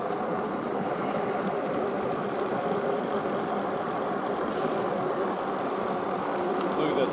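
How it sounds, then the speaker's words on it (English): Motorbike engine with a touchy throttle runs steadily and loud throughout, a dense mid-range drone, in hurricane-damaged Cedar Key. "The throttle on this bike is very touchy."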